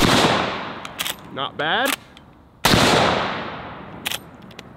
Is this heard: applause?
no